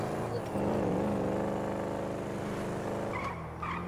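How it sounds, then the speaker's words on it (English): A P1 car in GTA V Online drives with a loud, steady engine roar that stays up front throughout, with skidding and tire noise mixed in and a brief squeal of tires near the end. "Hey, I'm about to steal this P1 car"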